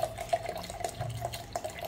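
Water is added to curd to thin it into buttermilk. It trickles and drips in a steady run of small, close splashes with a faint ringing tone.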